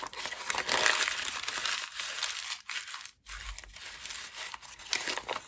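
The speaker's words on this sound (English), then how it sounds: "We're going to crumple it up into a ball." Amate bark paper is crumpled by hand into a ball, giving dense crinkling and crackling up close, in irregular bursts with a brief pause in the middle.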